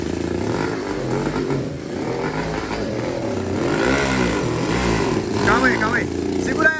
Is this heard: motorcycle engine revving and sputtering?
yes